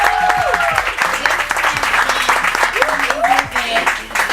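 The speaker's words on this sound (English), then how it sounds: "Let's just give a round of applause" Loud audience applause at a book signing, dense clapping filling the room throughout, with a voice speaking over it.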